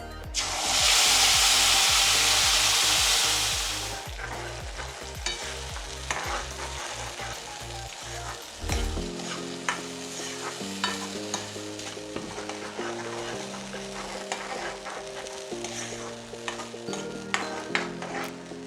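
Spice paste hits hot oil with bay leaves, cloves, cardamom and cinnamon for rajma, opening with a loud burst of sizzle that settles into a steadier fry with repeated scraping stirs, close and without talk.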